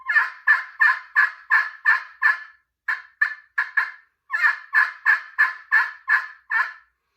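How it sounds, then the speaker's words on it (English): Hen yelps come from a hickory striker worked on a Zink Power Hen slate pot call, in three close, loud, raspy runs of rhythmic calls separated by brief pauses. "we'll see what the hickory striker here sounds like."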